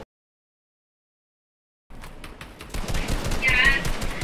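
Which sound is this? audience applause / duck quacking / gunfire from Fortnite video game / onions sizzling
gunfire from Fortnite video game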